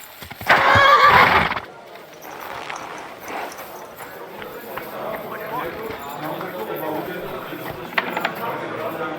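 A horse neighs loudly and close at the start in Kingdom Come: Deliverance 2, then someone speaks calmly over soft hoofbeats and ambient game sounds.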